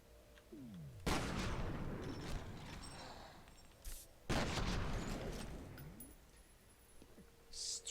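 Gunfire from a minigun in the PC shooter F.E.A.R. Extraction Point erupts in two long, dense roaring bursts separated by a short pause, loud and close amid sparse game effects.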